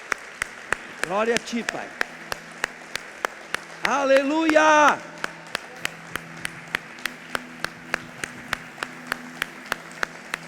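A church congregation at an Easter service gives a long stretch of applause, a faint, even patter of many hands with regular sharp claps on top, as someone speaks and calls out praise over it.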